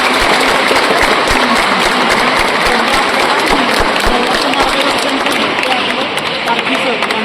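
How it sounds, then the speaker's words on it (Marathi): Crowd applause at an outdoor Yoga Day celebration held by a political party in Satara, a loud, dense and steady wash of clapping that runs without a break, with voices mixed in. "यांच्यासाठी एक जोरदार टाळ्या झालं पाहिजे."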